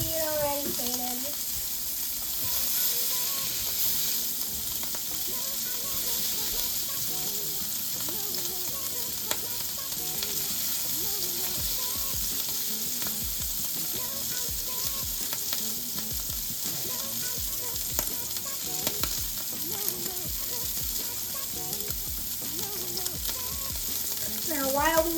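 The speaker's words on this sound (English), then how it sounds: "hear that? That is a good sizzle." Steak sizzles steadily in a hot frying pan, a dense continuous crackle and hiss with scattered pops that stays constant and close, with no talking over it.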